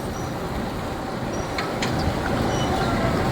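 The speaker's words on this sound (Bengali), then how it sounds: "ট্রলারটি এখন বের করছে আস্তে আস্তে করে।" A fishing trawler's engine drones as the boat slowly pulls out, a steady, even rumble with broad noise and no breaks, close and fairly loud throughout.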